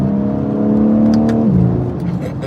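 A car engine revs loudly and steadily during quick driving maneuvers, its tone holding and then dropping as the car eases off, close and dominant with no talk.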